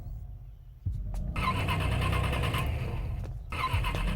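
A vehicle engine cranks but fails to catch: a loud, close, steady mechanical grinding that starts after a low idle rumble, dips briefly, then resumes.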